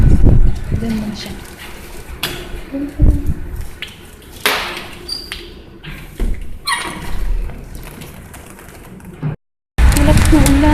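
A bird sheltering from the rain in Doha gives soft cooing calls among scattered knocks and rustles, close by, while people talk nearby.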